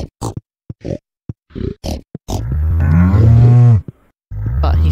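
Several short grunting animal calls followed by a long, loud cow moo, then another moo starting at the end; from Stardew Valley, close and prominent.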